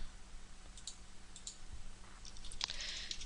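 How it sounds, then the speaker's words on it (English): Quiet computer keystrokes and mouse clicks while working in an Excel spreadsheet utility, sparse soft taps early and a denser cluster of clicking near the end, faint and close, with no talking. "I'll type in a title, make a selection"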